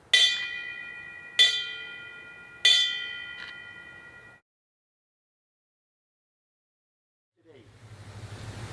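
A Navy memorial bell is struck three times at an outdoor backyard ceremony, each loud clear ring decaying slowly with a steady rhythm. Silence follows, then soft wind-like noise rises.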